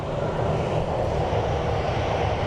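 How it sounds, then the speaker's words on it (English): An 11-year-old Frontier Airbus A320 on final approach into Phoenix Sky Harbor airport gives off a loud, steady engine roar that stays constant for the whole moment, with no voices. "up next on our arrival is Frontier Griswold the Grizzly Bear livery. It's an Airbus A320."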